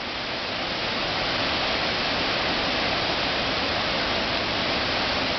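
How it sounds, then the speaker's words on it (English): Steady, dense rushing water of Indian Camp Creek in the Great Smoky Mountains roars continuously from start to finish, a loud broadband wash like a fast creek or small waterfall close by. "you can probably hear that creek roaring"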